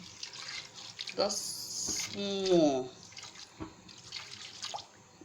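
Water is poured from a tap into a cooking pot while a fisherman's seafood soup is being prepared, a brief splashing stream under a voice speaking nearby in a kitchen.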